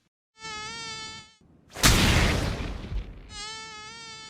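Buzzing mosquito sound effect in a cartoon parody, a close high whine in two bursts, separated by a sudden loud swat-like crash that trails off.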